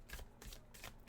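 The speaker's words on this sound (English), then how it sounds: "Something very calming about shuffling." Tarot cards are shuffled by hand in soft, regular riffling bursts, about four in quick succession, quiet and close with no talking.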